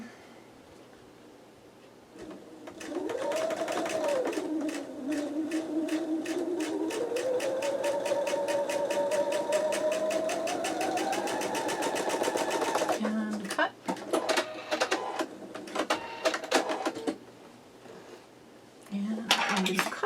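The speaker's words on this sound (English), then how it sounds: "I have chained pieced these two together" Sewing machine chain-piecing quilt fabric pieces for a block, a fast close rhythmic stitching that runs steadily for about ten seconds, then stops and restarts in short bursts, with someone speaking nearby.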